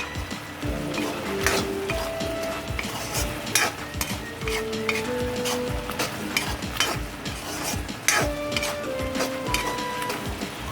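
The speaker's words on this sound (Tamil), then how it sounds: "எல்லாம் சைடில் திருப்பி வைக்கிறோம் பார்த்து கரைச்சி கரட்டி விட்டு இந்த கீ எல்லாம் எடுத்து உள்ளே சேர்த்துருங்க" Grated carrot for halwa is stirred in ghee in a pan, with continuous scraping and clinking of a spoon against metal and a soft sizzle, close and busy throughout, without talk.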